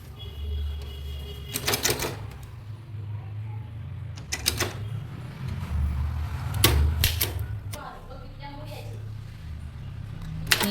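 A manual typewriter taps out a Tamil legal letter, with bursts of sharp keystrikes and carriage clatter separated by pauses, close and clear while a person talks throughout.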